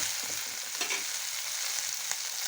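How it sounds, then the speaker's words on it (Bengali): Chicken pieces sizzle steadily in a pan while a spatula stirs them, giving a few soft scraping knocks over a constant close hiss with no voices. "চিকেনটা আমি নেড়ে দিচ্ছি।"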